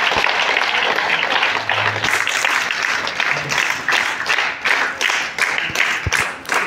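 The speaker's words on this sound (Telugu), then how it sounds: "మీరు చప్పట్లు కొట్టచ్చు" An audience at a literary felicitation event claps together in sustained applause, dense at first and thinning into more separate claps toward the end.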